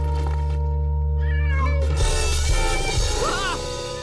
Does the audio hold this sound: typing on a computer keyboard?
no